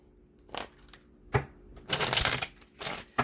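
Tarot cards shuffled and tapped down on a surface, a few close bursts of riffling and slapping separated by short pauses, quiet with no speech.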